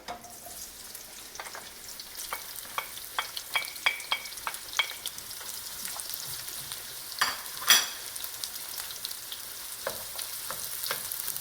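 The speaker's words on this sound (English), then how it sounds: "my onion is frying beautifully" Onions sizzle steadily in hot oil, with scattered crackles and pops and a few stirring scrapes, close up and with no talking.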